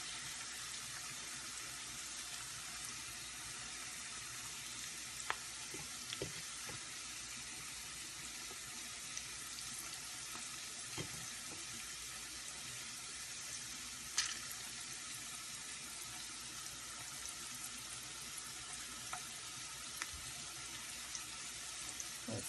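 Garlic and onions frying lightly in vegetable oil, a faint, even hiss of sizzling that holds steady throughout with a few small pops and clicks, no voices.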